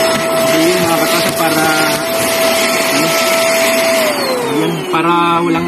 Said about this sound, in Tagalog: Vacuum lang itong gamit namin dito sa paglilinis.